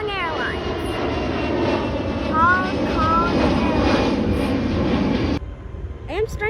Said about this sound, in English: I'm hearing a plane